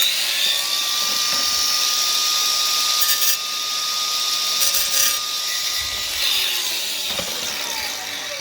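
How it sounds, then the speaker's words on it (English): An angle grinder with a diamond disc trims a tile edge: a steady high-pitched whine with a few brief louder bites into the tile, then spinning down near the end, close and loud with no talk. "you can always just go in again with your grinder and just take that off"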